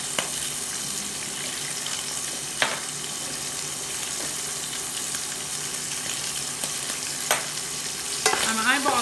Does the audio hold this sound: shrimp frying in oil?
yes